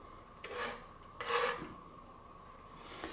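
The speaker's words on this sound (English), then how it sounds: "And then I'm just cutting off the dry little end that was there." A knife trims the dry end off a root during stir-fry prep, giving two short, close rasping cuts, the second louder, with a faint scrape at the end.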